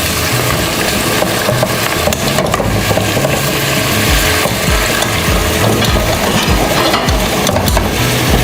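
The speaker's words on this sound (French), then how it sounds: "le poulet ramené dans la marmite pour vraiment proprement dit commencer la sauce yassa. On va un peu rissoler" Chicken browning in a pot as the base of a yassa sauce, giving a steady, dense sizzle with scraping and stirring noises throughout, close and fairly loud, no voices.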